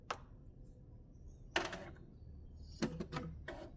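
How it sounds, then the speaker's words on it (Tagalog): A home printer powering on and initializing gives off a few sharp mechanical clicks and short whirring bursts, separated by quiet stretches, close by with no talking. "first, we need to turn on our printer."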